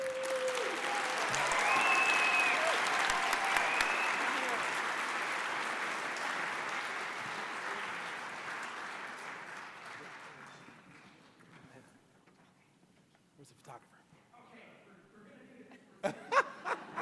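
A gala awards-night audience applauds after an acceptance speech, loud clapping that swells early then gradually fades over about ten seconds, followed by scattered claps and light laughter.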